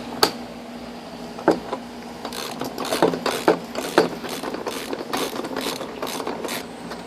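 Ratchet wrench with a 7/8 inch socket loosening a nut on a Pentair FNS Plus DE pool filter, giving a few sharp clicks and then a rapid run of ratcheting clicks, close and loud, with no talk.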